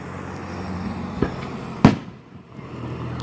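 Fourth of July fireworks go off in the distance, a soft pop followed by a louder, sharper bang, with a low rumble of background noise throughout.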